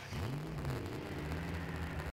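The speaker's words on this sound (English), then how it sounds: "as you can hear, that's starting your engine, and I'm driving around." Car engine in the Roblox game Jailbreak starting up and driving, a short, quiet whirring hum whose pitch climbs and then settles, alone without voices.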